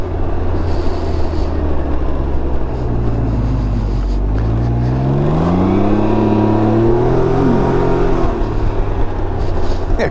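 A Can-Am Ryker Rally three-wheeler engine revs up under acceleration, a loud close rumble climbing steadily in pitch through several gears over a constant wind roar.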